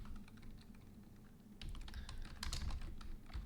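Quiet computer keyboard typing while code is written, with soft irregular key clicks that pick up into a faster, denser burst halfway through over a low background hum.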